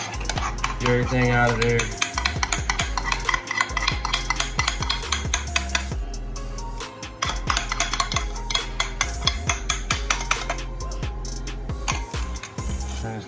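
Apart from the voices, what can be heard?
stirring butter in pan for garlic parmesan pork chops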